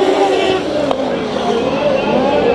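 Wingless California Lightning Sprints sprint cars roar together at Bakersfield Speedway on a restart, a dense sustained engine drone with a faint crowd and announcer-style talk mixed in.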